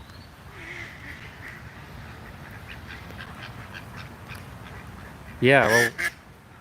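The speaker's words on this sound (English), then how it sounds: "that was a loud duck" A loud duck bursts into a sequence of honking quacks near the end, rising sharply above a steady background of someone talking.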